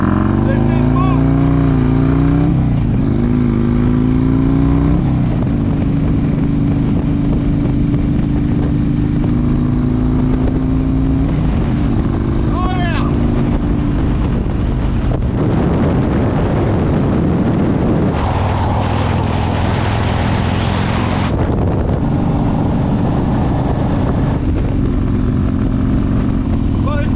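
Harley-Davidson Road Glide Limited motorcycle on the road, engine droning loudly and rising through several acceleration pulls amid strong wind rush, close to the rider, with occasional speech over it.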